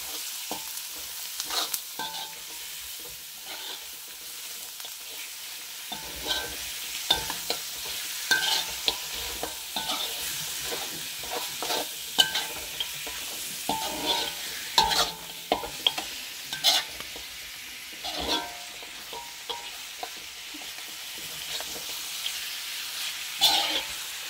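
Mutton pieces frying in oil in a kadai, a soft steady sizzle with frequent clinks and scrapes of a ladle stirring the meat, close up with no talking.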